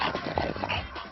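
A stocky bulldog with a massive head whimpers and pants close by in a continuous, busy stretch of snuffling and whining.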